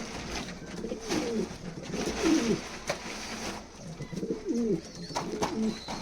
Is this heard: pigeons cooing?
yes